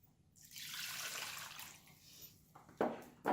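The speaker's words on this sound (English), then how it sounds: "So we're going to go ahead and add 2 jars of water." Water is poured from mason jars into a pot of wedding soup with vegetables, a close gurgling rush that swells and fades over a couple of seconds, followed by a couple of short splashes.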